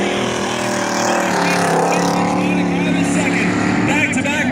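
Pack of 8-cylinder stock race cars roaring around the Valley Raceway oval in a championship feature, engines droning loudly and steadily with shifting pitch as they pass, a voice heard over the noise.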